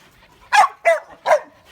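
Three sharp, loud dog barks come close to the microphone, evenly spaced, with a quiet pause between each.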